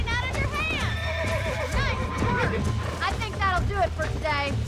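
A horse in the Western video game Red Dead Redemption whinnies repeatedly with shrill, wavering neighs over clip-clopping hooves, while someone talks over the game sound.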